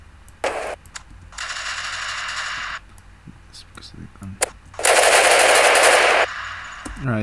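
Bursts of machine-gun fire from an edited video, several loud rapid-fire volleys, the longest near the end, with a voice talking between them.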